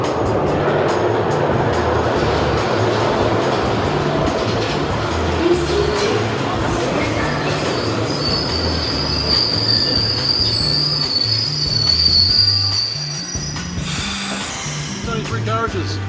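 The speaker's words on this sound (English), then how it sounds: "ready to see one of the world's smaller subway trains" A small Glasgow subway train rumbles and clatters past up close, with a sustained high wheel squeal building midway before the noise eases.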